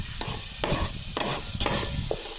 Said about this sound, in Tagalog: naggisa na tayo ng kamatis, then sibuyas, bawang